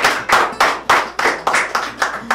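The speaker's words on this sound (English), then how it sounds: "Yeah, let's clap for this." A few people clap in a small room on a morning show, eight or nine distinct, fairly loud claps in an uneven rhythm, close by, with no talking.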